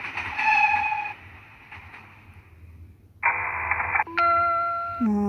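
Cartoon train sound effects in a classroom quiz game: a sustained whistle-like tone, a pause, then more bright tooting chimes, fairly loud with no voices.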